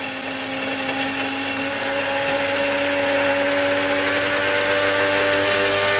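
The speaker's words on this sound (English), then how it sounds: "Grind in the beans." A coffee grinder grinds beans for a homemade caffe latte, giving a loud, steady whirring drone that holds throughout with no speech.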